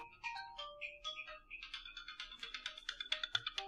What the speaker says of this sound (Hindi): फोन बज रहा है तुम्हारा, देखो।